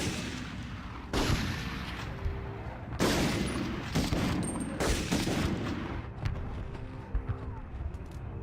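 Gunfire in the Medal of Honor video game: dense, loud bursts of shots and booming blasts that come in heavy waves and keep going through the whole stretch.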